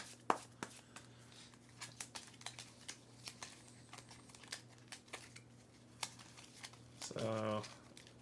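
Game cards for a cooperative board game shuffled by hand, a string of sharp, separate riffling snaps spread evenly, ending in a short louder rustle, close and over a faint background hum.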